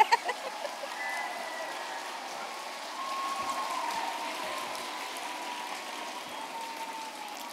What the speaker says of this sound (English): Now you can clap again.